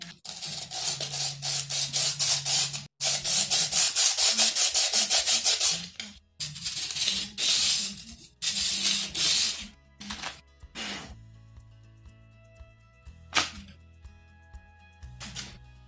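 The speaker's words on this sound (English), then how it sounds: "This is a piece of 120 grit sandpaper." A guitar saddle is rubbed back and forth on 120 grit sandpaper laid on a flat table, giving steady, close, loud scraping strokes in bursts with short pauses before it tapers off.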